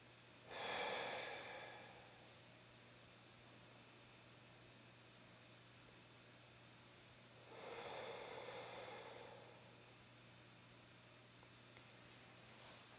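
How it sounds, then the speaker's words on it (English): Two slow, deliberate breaths of a breathing exercise, a strong inhale near the start and another around the middle, separated by quiet room hush, with no talking. "let's try the breathing again"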